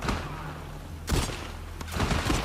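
Gunfire in The Last of Us Part II, several loud bursts of game shots and booms around one and two seconds, with steady combat noise in between and no voice.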